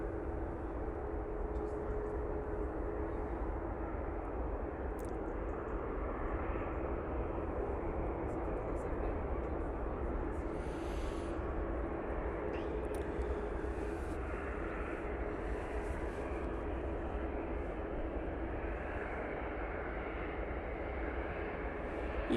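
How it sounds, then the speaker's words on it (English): Heavy jet airliners depart Manchester Airport in sunshine, their engines a continuous low, distant-sounding rumble that stays even for the whole stretch, with occasional faint voices. "we do have a couple of decent heavies now making their way out"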